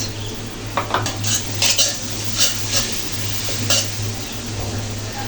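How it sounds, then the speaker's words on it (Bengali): Spice paste with garlic and ginger paste sautéing in a pan for a Bengali fish curry with bottle gourd, a metal spatula scraping and clinking repeatedly against the pan over a low, steady sizzle and hum, with no speech. "মশলাগুলো কিছু সময় নিয়ে কষে নিতে হবে"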